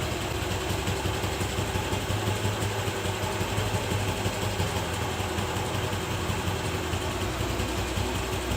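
A TVS Jupiter scooter engine idles at its lowest RPM during carburetor tuning, giving a steady, continuous low mechanical hum with broadband noise, close by and even in level throughout, with no talking.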